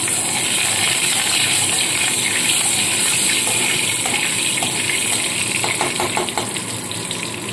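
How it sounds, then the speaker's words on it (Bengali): Nigella seeds and curry leaves crackling in hot oil, a loud, dense, continuous hiss close by, with no voices. "তো তেলের মধ্যে কালো জিরে ফোড়ন আর কারি পাতাটা আমি প্রথমেই দিয়ে দিলাম।"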